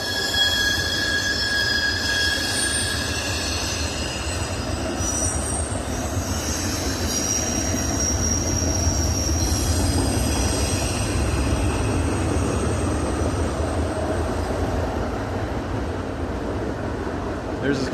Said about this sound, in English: That's a big train.